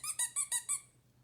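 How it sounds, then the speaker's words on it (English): Five quick, bright squeaks in an even rhythm, each short and high-pitched, followed by a low steady hum that lingers alone; a sound from the Ballyland Sound Memory app game. "There's the squeaky."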